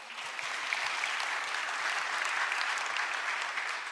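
Audience applause at a large Korean government national policy report ceremony, a sustained, even roar of many people clapping from start to finish, with no voices over it.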